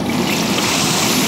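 Katla fish sizzles in hot cooking oil in a pan, a dense, steady crackling hiss heard up close without any talking.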